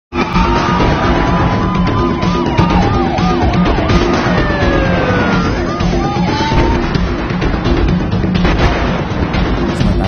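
An ambulance siren wailing, sweeping up and down continuously amid heavy traffic and engine noise, loud and busy throughout.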